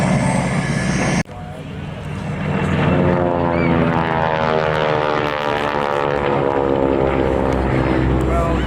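A propeller aircraft at the Illawarra Air Show at Shellharbour Airport. A loud, sustained engine and propeller drone rises after a sharp start and stays close, with a voice talking over it.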